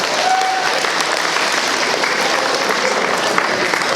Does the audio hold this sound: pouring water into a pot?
no